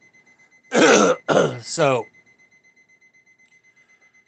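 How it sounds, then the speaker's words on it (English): A phone alarm set as a heart medicine reminder beeps in a fast, steady electronic pulse that runs faintly but continuously in the background while someone speaks briefly over it. "You can hear my alarm going off crazy in the background"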